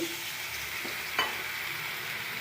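Potatoes frying in a pan sizzle steadily, with a brief burst of hiss and splash as water is poured in, then a settling simmering hiss.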